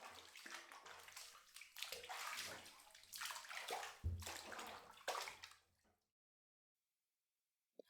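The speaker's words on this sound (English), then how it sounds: "Now, please disrobe and enter the bath." Water swishes and sloshes in a bath in a few surging waves as someone lowers in, then settles into silence.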